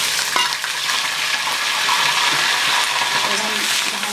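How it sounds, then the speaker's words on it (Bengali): Onion paste frying in a pan with bay leaves, dried red chillies and asafoetida, giving a loud steady sizzle and crackle with occasional scraping stirs throughout. "এবার ভালো করে পেঁয়াজটা লাল করে ভেজে নিচ্ছি"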